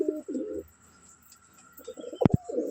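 Pigeons in a coop give low, throaty coos in short bursts, with a pause between them, then two sharp knocks followed by more cooing, close and moderately quiet.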